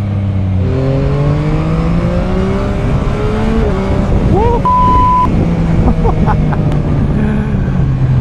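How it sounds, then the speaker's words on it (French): A 2021 Yamaha MT-09 roadster accelerates hard, its engine note rising in steady sweeps through the gears, loud and close, with a rider's voice talking over it. "Non mais la mise en vitesse avec cette moto, c'est n'importe quoi."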